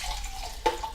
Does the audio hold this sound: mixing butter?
no